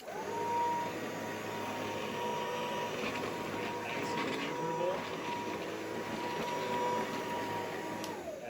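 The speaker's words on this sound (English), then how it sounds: "you're going to see that it lights up with LED" A Tenet vacuum cleaner with an LED headlight hums steadily and fairly loudly from start to finish, a sustained motor whine with faint background noise and no clear speech.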